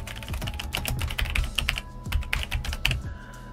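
Rapid typing on a computer keyboard while entering a long sentence into a Word table, a steady run of close, crisp key clicks with brief pauses.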